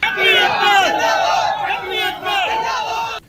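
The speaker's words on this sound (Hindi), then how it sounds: "सड़क पर प्रदर्शनकारियों की भारी भीड़ जमा हो गई जो क्षत्रिय समुदाय की एकता के नारे लगाती रही।" A large crowd of protesters on a road chants slogans of Kshatriya community unity, loud rhythmic massed voices rising in two waves with a short dip between them.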